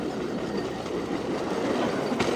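A passenger train slows on its tracks, wheels rolling with a steady dense rumble and rattle close by, a brief squeal near the end, no voices.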